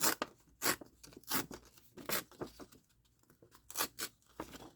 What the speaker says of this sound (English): So what I'm going to do is rip some of this scrapbook.